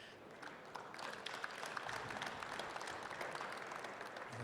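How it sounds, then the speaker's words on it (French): Audience at a conference on responsible purchasing and relocalisation claps for three speakers, a moderate, even round of applause that holds steady throughout. "Je vous propose d'applaudir peut-être les"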